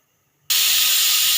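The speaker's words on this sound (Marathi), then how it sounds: "कुकर लावून घेतलेला आहे. आता शिट्टी होतीये याची" A pressure cooker bursts into a loud, steady hissing whistle after half a second of near silence and keeps blasting without a break.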